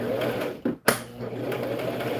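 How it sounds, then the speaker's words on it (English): A sewing machine stitches organza tutu pieces together, running in a steady continuous whir with a brief pause partway through before it resumes at close range. "I'm going to keep doing this until I have all 6 pieces sewn together."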